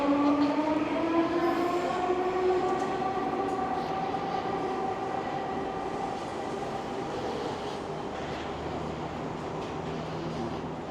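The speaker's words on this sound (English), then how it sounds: "We're over at the SkyTrain station now, so I'm just going to wait for the train" A Vancouver SkyTrain elevated metro train rumbles past with steady roaring noise and rising, whining tonal hums from the motors, loud and continuous throughout.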